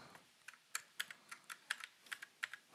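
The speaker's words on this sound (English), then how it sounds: "I got a new keyboard" Fingers clack across a new computer keyboard in quick, uneven bursts of crisp keystrokes, close and fairly quiet, with no talking.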